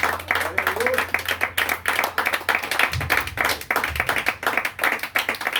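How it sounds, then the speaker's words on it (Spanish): A church congregation claps hands in a steady, rhythmic beat, loud and continuous, with low musical tones and a voice underneath. "Dale fuerte palmas al Señor."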